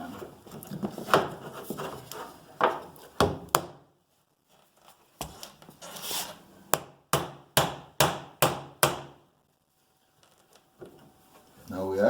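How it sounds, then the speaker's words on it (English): Sharp hammer blows strike wood during kitchen base cabinet installation, first a few scattered hits then a quick run of about eight evenly spaced knocks, close and loud. "So you can hammer that"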